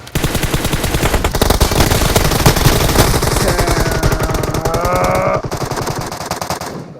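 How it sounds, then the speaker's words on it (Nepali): Rapid automatic gunfire in PUBG Mobile, with rounds striking a vehicle: loud, dense bursts of shots continuing for several seconds, briefly joined by a rising whine near the end, then tapering off. "हाने गोली गाडी पड्क्यो"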